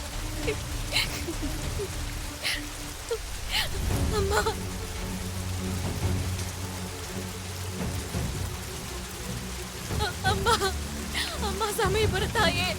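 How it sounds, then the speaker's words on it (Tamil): Heavy rain pours down in a steady, dense hiss with occasional distant thunder rumbles beneath, and faint voices mixed in. "தயவு செஞ்சு இந்த மழையை நிறுத்தி கொடு."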